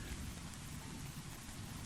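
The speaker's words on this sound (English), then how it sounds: "we want to get out of the rain, and the rain is starting to piss me off" Rain ambience used as a sound effect in a tabletop role-play game, a dense steady hiss of heavy rainfall on surfaces with a low rumbling undertone, continuous and fairly soft, with no voices.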